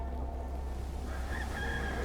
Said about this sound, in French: Pendant qu'il chante le coq.